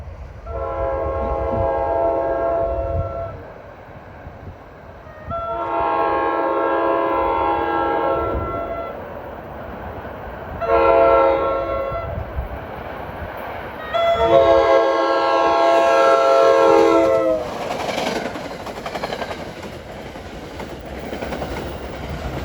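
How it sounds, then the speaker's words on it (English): NJ Transit express train 66 from Middletown, New York to Hoboken passes on the mainline, giving several long, loud horn blasts over a rumbling, rolling consist with clattering wheels. It sounds close and builds in loudness toward the end. "Next up at 428 is train 66. This is an express. Comes from Middletown, New York to Hoboken."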